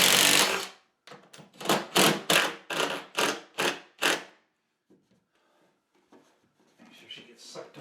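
Power drill running in repeated short bursts while driving a screw into a bedroom wall to mount a Murphy bed, each whir close and loud, followed by quieter shuffling and handling noise.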